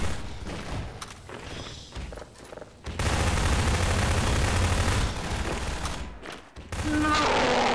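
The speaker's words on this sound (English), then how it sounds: "Why are you shooting me?" Dense, continuous video-game gunfire from the Human Error co-op mod, sporadic bursts at first, then loud sustained automatic fire for most of the clip, with excited voices shouting over it.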